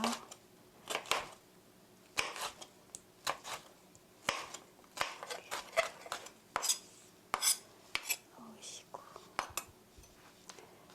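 A knife slices through tomato sauce rice bowl ingredients into 1 cm pieces on a cutting board, giving a string of sharp, close chopping taps in irregular bursts, with soft handling clatter between cuts.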